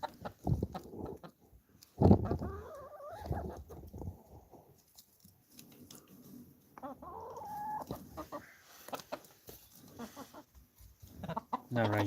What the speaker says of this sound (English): Let's give the chicken some